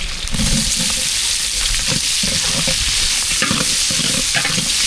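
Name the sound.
onions sautéing in hot oil with mustard seeds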